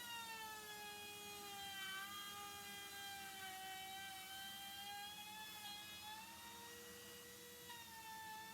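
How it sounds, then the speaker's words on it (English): A cordless router cuts wood with a shop vac attached, giving a continuous high whine with shifting pitch over a steady roaring vacuum, close and unbroken for the whole stretch. "Even though the router is cordless, I still have it hooked up to the shop vac"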